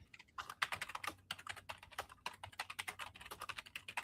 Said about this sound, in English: while you're typing that